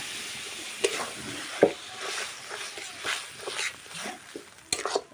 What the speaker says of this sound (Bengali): এবারে আমি এটাকে কষাতে থাকবো। কিছুক্ষণ আমি কষিয়ে নিয়েছি 5 মিনিটের মতো।